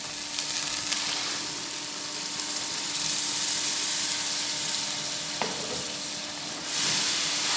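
Tomato paste sizzles and spits in hot spiced oil in a pan for chicken qorma, a steady broadband hiss with occasional stirring scrapes, close and continuous, with no talking.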